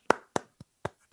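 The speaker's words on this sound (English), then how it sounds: "round of applause. Well done, though, mate." A handful of separate, spaced hand claps, sharp and fairly close, about five in just over a second, with no talk over them.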